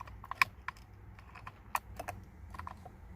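Plastic electrical connector behind the steering wheel of an Infiniti G37/G35/Q40 being pushed into place, giving a few sharp, close clicks and snaps scattered over a quiet background.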